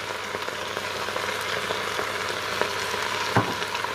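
Vegetables sauté in a Cookeo multicooker pot, giving a steady close sizzle and crackle with a few sharper pops, heard alone without talk.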